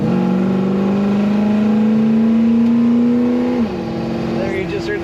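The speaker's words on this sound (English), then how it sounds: "There you just heard the kick down working on that automatic transmission." A 1969 Chevrolet C10 pickup with an automatic transmission accelerates on the road. The engine note climbs steadily for several seconds, then drops abruptly as the gearbox shifts and settles into a lower drone.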